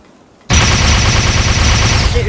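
Dense video game gunfire from an airstrike sequence shooting down tanks bursts in abruptly and keeps going as a loud, continuous rattle of rapid shots and blasts.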